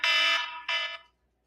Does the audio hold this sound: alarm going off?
yes